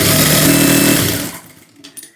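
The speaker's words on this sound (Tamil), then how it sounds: "தள்ளி விட்டுட்டு கீழே ஒரு தையல் போட்டுக்கணும்." A sewing machine runs steadily while stitching the lining of a blouse, a loud, close whir lasting about a second before it stops and leaves near-quiet.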